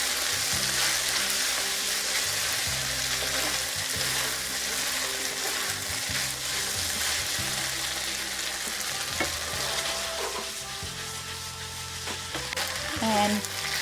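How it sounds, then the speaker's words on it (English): Noodles frying in hot oil for rad na, a steady loud sizzle throughout with occasional stirring scrapes and clinks toward the end. "Once the oil is hot, we're gonna add our noodles in here."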